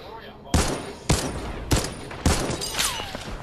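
Gunfire in a video game, with four sharp loud volleys spaced about half a second apart, each trailing into a rattling decay and mixed with other game noise.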